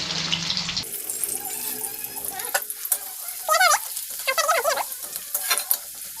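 Onions frying in a pan with cumin and green chilli, a loud, busy sizzle with scraping stirs and a few bursts of sputtering, no speech.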